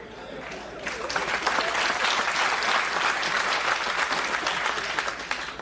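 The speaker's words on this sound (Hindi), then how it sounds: "जेंडर स्पेसिफिक ताली मत बजाओ" An audience claps at a spiritual talk, sustained and broad, filling the whole stretch with dense, steady applause at moderate distance and no voice on top.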